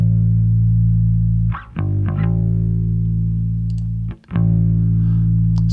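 Bass guitar runs through a Fender Studio Pro amp model and effects chain with a little gain, sustaining thick low notes that are briefly cut twice for re-plucks, played alone without talking.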